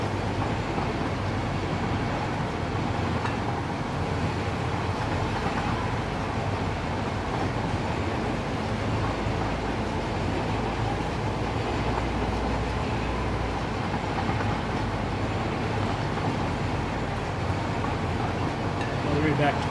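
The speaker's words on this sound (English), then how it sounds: "We're going to ride our train line all the way back." A train ride in the factory-building video game Satisfactory gives a steady rolling rumble of rail wheels that stays constant and fairly loud, with a voice speaking over it.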